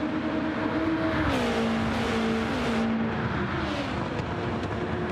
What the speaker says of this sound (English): Gets up hard on the accelerator, up in behind the Fitzy in that slipstream.